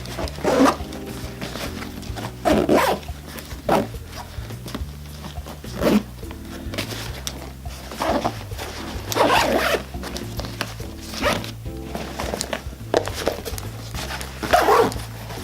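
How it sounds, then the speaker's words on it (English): A bag's zipper is pulled in repeated short, rasping strokes, close and loud, a dozen or so quick zips spread over the stretch with brief pauses between them. "I'll just quickly zip this up again just to make it easier to show and demonstrate it."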